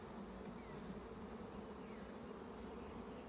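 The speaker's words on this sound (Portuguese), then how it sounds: "Tem muita abelha ali" Bees being rescued from a tree trunk buzz in a faint, steady swarm drone that holds without a break, with no voices.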